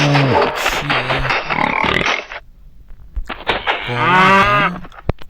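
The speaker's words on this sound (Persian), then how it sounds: "این گاوام ازشون واقعا میترسم" Two loud, close cow moos from Minecraft, each a drawn-out bellow, separated by a brief quiet gap.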